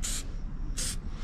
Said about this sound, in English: I'm gonna spray it with this 500 degree engine enamel